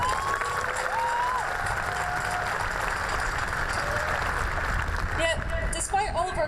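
A graduation crowd at McMinnville High School applauds steadily, with clapping, cheering and a few rising whistles carried over a dense, sustained roar.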